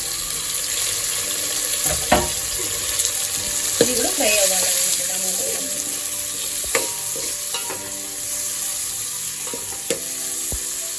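Onions and green chillies fry in a pan as tomato goes in, with a steady sizzle throughout and intermittent scraping and clinking of a spoon stirring against the pan.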